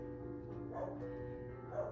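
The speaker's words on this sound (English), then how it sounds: "I got a puppy barking out there." A puppy barks outside, heard indoors as two faint, distant yips over a steady low background hum.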